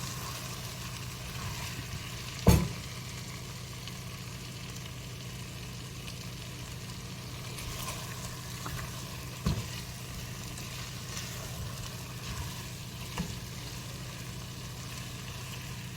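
Chicken curry masala frying in a pan, a steady low sizzle running throughout with a few sharp clinks of a spoon against the pan.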